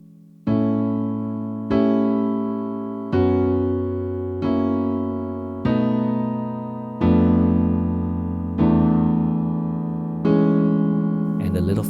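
Slow piano turnaround played with both hands together: eight separate sustained chords struck one after another at an unhurried, even pace, each ringing and fading before the next, with no talking.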